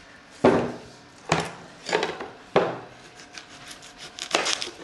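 A knife chops vegetables on a large wooden board in several separate, close thuds, irregularly spaced with short pauses between cuts.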